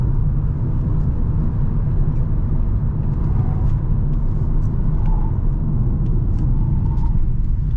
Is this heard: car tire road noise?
yes